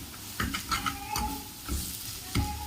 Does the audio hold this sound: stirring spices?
yes